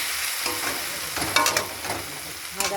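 Spice paste fries in hot oil in a pan, cooked down for a potato dish. It makes a constant close sizzle, with a few sharper crackles and scrapes as the spatula stirs. No one speaks.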